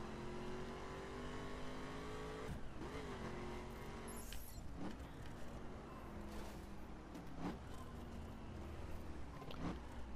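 A car driven through St. Louis in the video game The Crew Wild Run produces a steady engine drone that rises and falls as it accelerates and shifts, with several sharp transient knocks along the way.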